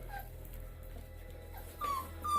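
Puppies eating their first raw food meal whimper and yip, with thin, high-pitched whines rising near the end over a low, steady background hum.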